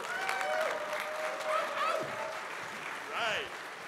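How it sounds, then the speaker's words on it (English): Crowd at a regional IT awards night applauds a company vice president, a steady bed of clapping overlaid by whoops and whistling cheers, with voices rising above it. "How about a big round of applause for Mr. Dean DeLulo."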